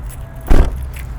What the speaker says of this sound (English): Lock the car.